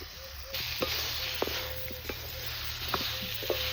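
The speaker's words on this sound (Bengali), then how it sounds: "কষানো মশলার ভিতরে ভেজে রাখা সবজি দিয়ে দিচ্ছি" Fried vegetables tipped into a pan of sautéed paste of onion, garlic, ginger, tomato, turmeric and chilli for a squash and prawn curry, giving a steady close sizzle broken by several sharp spatula clinks against the pan.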